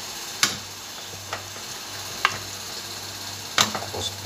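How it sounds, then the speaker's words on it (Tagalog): A spoon scrapes and clinks against a pot of nilagang baka beef stew, giving four or five sharp knocks spaced over a quiet background with a faint low hum and soft simmer. "Tapos haluin lang."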